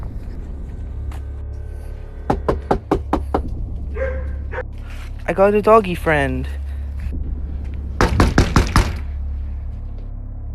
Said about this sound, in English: Since everyone wanted me to knock on my neighbor's door, here you go.